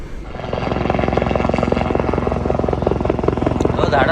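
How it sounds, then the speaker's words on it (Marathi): A helicopter carrying a state chief minister approaches an event ground in Bhiwandi, its steady loud rotor thrum dominating throughout as a crowd murmurs and voices talk beneath it. "आता काहीच वेळात CM साहेबांचं हेलिकॉप्टर येईल"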